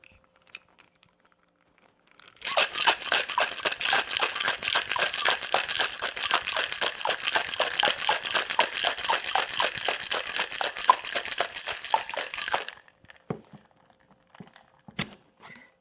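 A White Lady cocktail is shaken hard in a cocktail shaker, a loud, rapid rattling of ice that starts abruptly, runs steadily for about ten seconds, then stops, with a few light clinks before and after.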